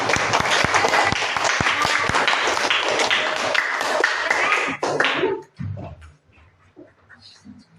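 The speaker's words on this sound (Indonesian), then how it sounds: "Tepuk tangan." A classroom of students claps loudly and close for about five seconds before the applause cuts off abruptly, leaving quiet room noise and a few faint voices.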